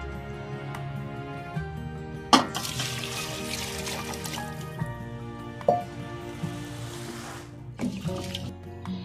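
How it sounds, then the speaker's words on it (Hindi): Chicken yakhni stock is poured from a glass into a pot of rice for yakhni pulao, a couple of splashy pours with drips and squelches, under soft background music. "ये 1 किलो चावल में मैं डालूंगी पानी यखनी का"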